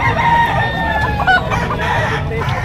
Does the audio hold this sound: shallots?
no